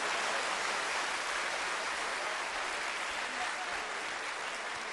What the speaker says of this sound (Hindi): तो जोर से ताली बजानी पड़ेगी आपको।